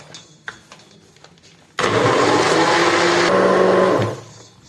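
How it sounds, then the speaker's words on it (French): A kitchen blender mixes sugar and milk for Algerian brioche dough, starting with a sudden loud roar and running steadily for a couple of seconds before spinning down, with quiet handling noises before it. "Et là, je vais mixer ces ingrédients d'abord."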